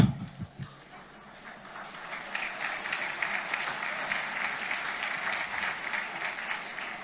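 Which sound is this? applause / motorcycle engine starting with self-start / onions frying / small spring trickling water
applause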